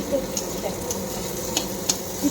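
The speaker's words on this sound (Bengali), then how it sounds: "পেঁয়াজটা আচ্ছা, একটু লাল লাল করে ভেজে নেবো" Onions frying in a pan for a spicy puti fish curry give a steady, close sizzle, broken by a few light scraping stirs of a spatula against the pan.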